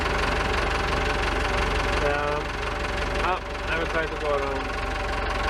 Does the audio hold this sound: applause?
no